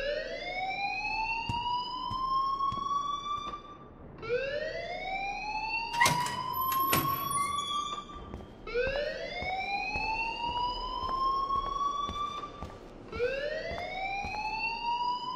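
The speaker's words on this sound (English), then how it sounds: "please turn off that alarm since that's your job" Fire alarm in the video game Life Is Strange, a rising siren sweep repeating about every four seconds at moderate distance, with brief clattering bursts between cycles.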